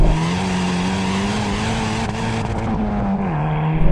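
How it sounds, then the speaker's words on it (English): Hyundai i30 N hot hatch accelerating hard on a test drive, a loud, steady engine drone rising and holding close inside the car, with a brief dip near a gear change and no talking. "let's see what this Hyundai i30 is like to drive"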